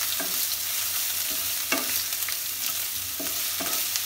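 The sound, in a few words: stirring Kashmiri rajma masala with ginger in a pan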